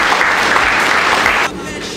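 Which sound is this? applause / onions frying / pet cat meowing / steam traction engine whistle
applause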